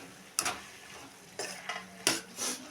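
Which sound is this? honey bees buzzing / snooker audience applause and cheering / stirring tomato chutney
stirring tomato chutney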